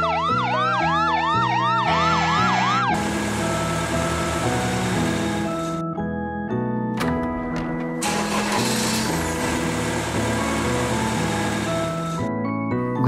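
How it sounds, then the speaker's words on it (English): A red fire truck siren wails in quick repeated rising and falling sweeps for a few seconds, loud and close, then gives way to bright background music. "Red Fire Truck."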